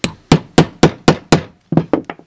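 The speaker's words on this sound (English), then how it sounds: "Hopefully hit it out with the hammer enough that it sticks out" Hammer blows on a nail set while knocking a pin out of a vintage Tandy Radio Shack computer truck toy: six loud, evenly spaced metallic strikes, then a quicker cluster of four lighter taps, close up with no talking.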